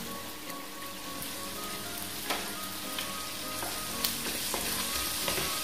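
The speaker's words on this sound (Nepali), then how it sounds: "चिकनलाई नि हल्का फ्राई गर्ने।" Chicken fries with onion and turmeric in a pan, giving a continuous bright crackling sizzle with occasional sharper pops and soft stirring clicks, steady and close with no voices.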